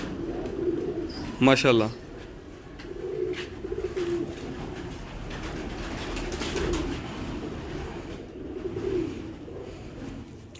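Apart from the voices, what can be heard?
breeder pigeons cooing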